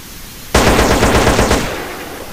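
A burst of rapid automatic fire from an M4 rifle in GTA San Andreas, loud and close, cracking out in a fast even stream for about a second before a short ringing tail, with no talking.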